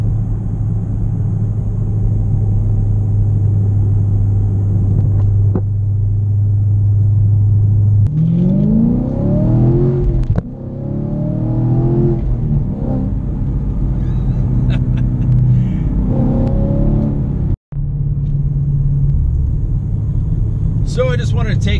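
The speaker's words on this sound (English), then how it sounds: "what this car actually drives like with the long tube headers and full exhaust system" A Camaro fitted with long tube headers and a full exhaust system cruises on country roads in Pennsylvania, its steady low exhaust drone rising into a couple of revving pulls and shifts while someone talks over it.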